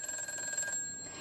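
A telephone rings with a faint electronic trill during a Korean stock-trading call-in broadcast, a steady buzzing tone that stops partway through.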